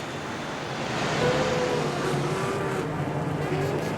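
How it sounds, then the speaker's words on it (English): Race cars pull away from the crowded pit area at the start of the 2002 Le Mans 24 Hours, their engines forming a continuous droning rumble with a few revving notes rising over it. "the race cars finally begin to leave the crowded area in front of the pits"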